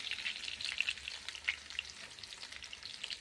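Potatoes frying in hot oil in a pan while a fish-roe fritter curry with pumpkin stems is cooked, giving a steady soft sizzle with faint crackles, fairly quiet and alone.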